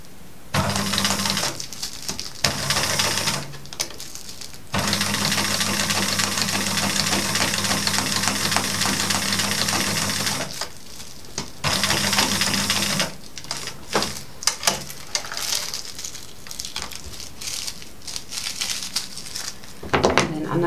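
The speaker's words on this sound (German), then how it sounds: "hier jetzt einmal knappkantig mit der Maschine" A sewing machine stitches close to the edge of a straight, smooth piece of fabric for a baby seat chain. It runs in several steady humming bursts with short pauses, and speech appears near the machine.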